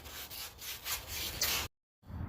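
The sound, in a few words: sanding down a brake rotor mount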